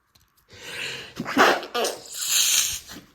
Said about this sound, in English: Excuse me with a sneeze there